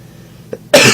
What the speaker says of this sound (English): Even makes me cough.